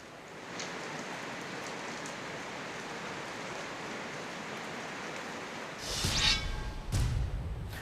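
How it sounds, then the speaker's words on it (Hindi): Heavy rain pours steadily over Uttarkashi in a dense, continuous hiss, with a louder gusting surge of downpour and splashing near the end. "उत्तरकाशी में जमकर बारिश हो रही है"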